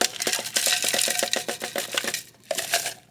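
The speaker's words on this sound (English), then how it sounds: "Then we're gonna need 4 ounces, about half of this, crushed ice." Crushed ice scooped and poured into a shaker for a Port au Prince cocktail, a close, loud run of rapid rattling clatters, a brief pause, then a few more clinks.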